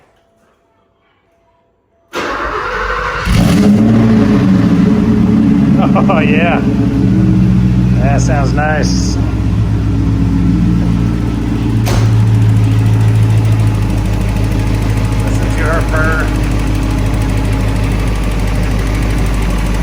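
After a moment of quiet, a Porsche 928 S engine cranks and catches, then settles into a loud, steady idle while people talk over it.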